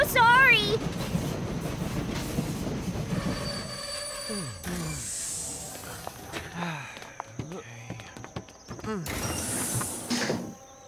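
A cartoon train rolls in with screeching, squealing wheels and rumbling, followed by mechanical clatter and a couple of sharp bursts of hiss, amid some voices.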